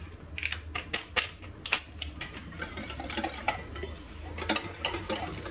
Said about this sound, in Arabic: نخلط شوية